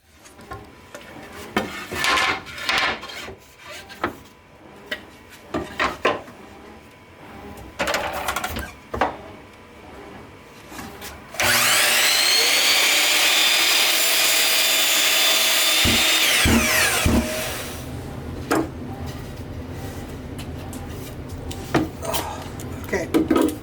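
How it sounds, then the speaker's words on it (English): Miter saw slicing through a wood board for a bookcase, one loud sustained whine of about six seconds after scattered workshop clatter and handling noise, then clunks and rattles as the blade winds down. "miter saw."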